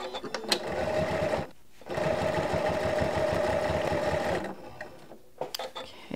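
A sewing machine runs steadily for a few seconds stitching a quarter-inch seam on vintage linen for a quilt-as-you-go wall hanging, pauses briefly, then whirs again before stopping near the end.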